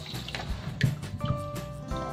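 Soybeans are rinsed in water with intermittent splashes, drips and sloshing at close range. The sounds come as several small bursts rather than a steady stream.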